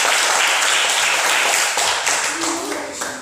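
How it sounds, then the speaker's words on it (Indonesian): A class of fifth-grade schoolchildren claps in their classroom, a loud, close, continuous wash of hands lasting the whole moment, with a voice briefly rising near the end. "Tepuk tangan untuk kelas 5"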